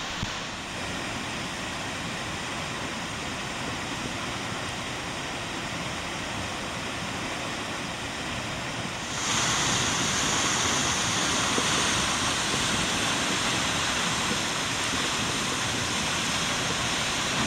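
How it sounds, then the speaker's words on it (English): Steady roaring rush of Seljalandsfoss waterfall in Iceland, continuous and loud, growing noticeably louder and brighter partway through as if moving closer to the falls. "This waterfall allows you to walk behind."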